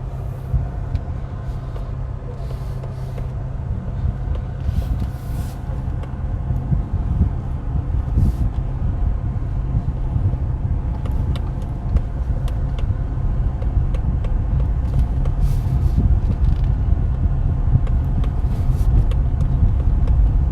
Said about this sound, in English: we're having some traffic right now